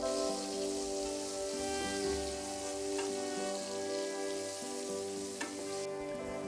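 Cut potatoes with salt and turmeric fry in hot oil, a soft steady sizzle with faint crackles and a couple of light stirring taps, no talking.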